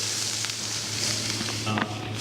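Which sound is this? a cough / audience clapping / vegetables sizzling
vegetables sizzling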